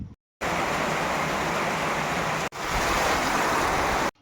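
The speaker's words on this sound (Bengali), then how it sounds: "ধারে বৃষ্টি শুরু হয়েছে" Rain pours down steadily outside a village house, a dense, even hiss of falling water that holds on, with one short break partway through, and no voices.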